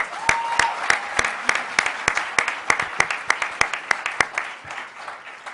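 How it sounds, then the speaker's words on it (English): A round of applause breaks out at a White House Champions of Change event focused on Sub-Saharan Africa: loud, fairly sparse individual claps in a quick, irregular rhythm, close and distinct, tapering slightly toward the end. "if we can start with a round of applause,"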